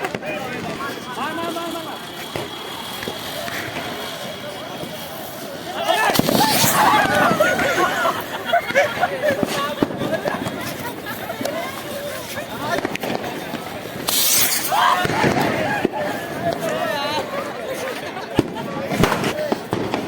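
Diwali fireworks and firecrackers go off around the Gomti river bridge in Jaunpur, with two loud bursts of crackling explosions over a busy crowd murmur and scattered pops, while people talk nearby.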